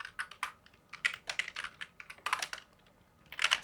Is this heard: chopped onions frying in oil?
no